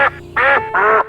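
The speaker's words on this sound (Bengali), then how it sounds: "মাঝে মাঝে সবচাইতে জোরে যে শব্দটি শুনতে পাওয়া যায় তা হলো হাঁসের ডাক" A duck quacks three times, loud and close, in a quiet Dutch village of canals and small wooden bridges. The calls are short and nasal with brief gaps between them, and nothing else is heard.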